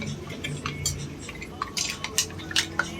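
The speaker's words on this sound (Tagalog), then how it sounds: "Tapos ano lang, mix lang natin." Mussels being stirred in a pot with a utensil, scraping and clinking against the metal with a few sharp clacks of shells, close and moderately loud, with wet liquid sounds underneath.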